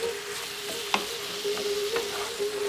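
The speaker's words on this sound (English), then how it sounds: "Give it a nice stir, make sure everything's mixed in together." Vegan shepherd's pie filling sizzles steadily in a pan with a soft frying hiss, broken by a few light scrapes and clicks as it is stirred; no one speaks.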